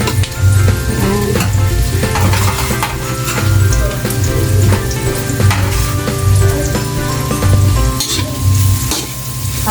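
Laing cooking with dried fish in a frying pan gives a loud, steady sizzle throughout, broken by regular scraping stirs of the spoon against the pan.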